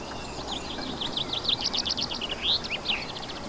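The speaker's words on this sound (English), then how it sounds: "if I keep quiet for a bit, hopefully you can hear some of the bird sounds." A bird sings a quick run of bright, repeated chirping notes, fairly close, over a soft outdoor background hush in a fern forest in Portugal.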